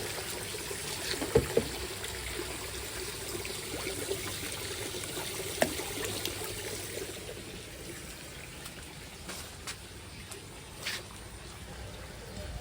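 Water is scooped from a fish pond for watering plants, a soft, steady trickling and sloshing with a few faint splashes and knocks, low and close in an outdoor garden.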